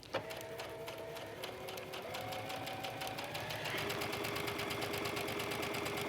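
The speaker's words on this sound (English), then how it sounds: "I'm going to take it to my sewing machine and sew around all 4 edges with a 1/4 inch seam allowance" Sewing machine running a quarter-inch seam around the edges of fabric squares for a lantern purse, a steady rhythmic stitching hum that speeds up slightly partway through, close and continuous.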